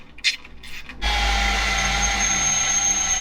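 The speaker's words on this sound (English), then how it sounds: "We're gonna start drilling some holes and get this sucker mounted." A power drill bores holes to mount a skid plate on an off-road bread van, spinning up suddenly after a brief clatter and holding a loud, steady whine close by until the end.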